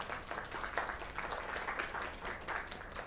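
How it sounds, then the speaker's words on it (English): Steady crowd applause in the video game Lake, a dense wash of many hands clapping at once, sustained and fairly even in loudness throughout with no voices standing out. "Another round of applause."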